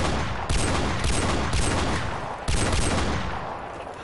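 Gunfire rattles through a Modern Warfare Remastered match in loud, dense bursts that start sharply about every second and trail off between volleys, with no talking over it.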